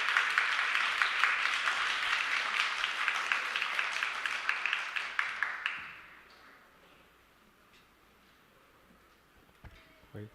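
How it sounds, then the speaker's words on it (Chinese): A church congregation claps steadily at a Sunday service to welcome team representatives to the stage. The applause is dense and sustained for several seconds, then fades quickly into a quiet room with a few small knocks. "来，请来拍手，欢迎来。"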